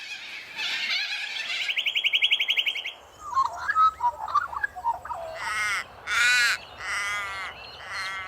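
Australian birds call out, first shrill squawks, then a run of rapid repeated chirps, followed by harsh crow-like caws in loud separate bursts over faint low background noise.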